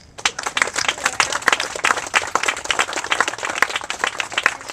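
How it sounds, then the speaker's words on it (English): Employees of US Hybrid in California applauding at a workplace event, a fairly small group clapping close by with distinct individual hand claps in an uneven, lively patter, no talk over it. "So I'd ask the employees to applaud that."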